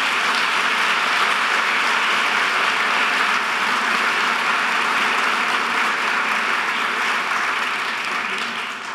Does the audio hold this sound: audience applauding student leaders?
yes